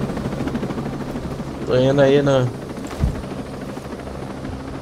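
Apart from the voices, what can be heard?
helicopter in video game Tom Clancy's Ghost Recon Breakpoint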